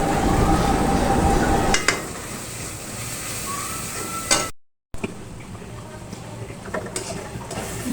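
Goat liver being stirred and fried in a pan, a steady sizzle with scraping and clinking of the spoon, briefly cut by a short gap partway through.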